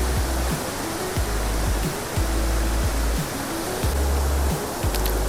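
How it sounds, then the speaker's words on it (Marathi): A monsoon waterfall at Garambi near Murud roars steadily as white water falls from a cliff. The rushing wash is continuous, dense and fairly loud, with no voices. "कड्यावरून जेव्हा पांढरे फेक पाणी मुक्त फळांसारखे खाली कोसळते"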